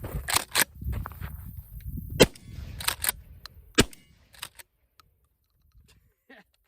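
A TriStar Cobra III 12 gauge pump-action shotgun fires several sharp, loud, close reports, each followed by metallic clacks of the pump action, before the sound fades to near silence.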